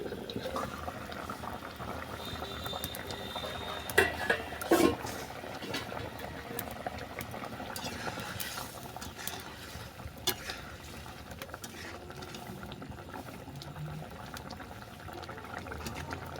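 A pot of curry with potatoes simmers with a faint, low bubbling and a soft liquid wash. A few clinks and knocks stand out near the start, and the rest stays quiet and steady.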